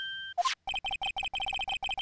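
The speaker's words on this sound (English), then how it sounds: "I know that song your phone plays when it rings" Steel Samurai theme ringtone from a phone in the Phoenix Wright game, a short rising chirp and then a bright, rapid, repeating electronic melody in quick staccato bursts, loud and alone.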